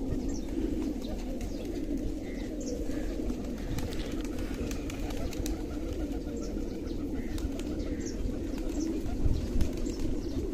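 Pigeons coo softly in a low, repeated throaty murmur that runs continuously, with occasional wing flutters and faint chirps over a quiet background.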